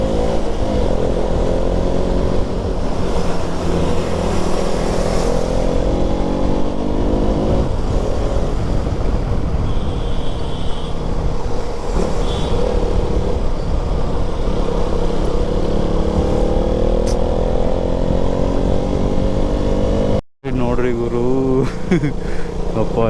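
A motorcycle engine drones steadily over a rough, damaged road on a hot summer day, loud and close, with bumps and wind buffeting throughout and a brief dropout near the end.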